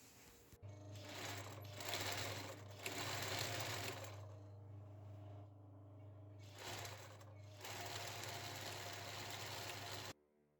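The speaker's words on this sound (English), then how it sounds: "Gonna sew that together." A sewing machine stitches a seam on a jacket made over from a blazer. The needle runs in a steady, close hum for several seconds, pauses briefly, then runs again before stopping.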